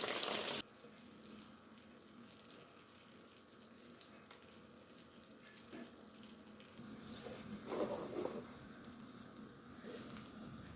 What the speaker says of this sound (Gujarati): હવે આપણે એને તળવા દઈશું.